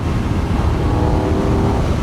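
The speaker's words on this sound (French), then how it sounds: "Ce moteur, il a tellement un caractère sympa que t'as toujours envie de mettre un petit coup de gaz pour l'entendre travailler." A Benelli 752S motorcycle engine holds a loud, close, gritty drone as the throttle is blipped, with a steady rumbling tone.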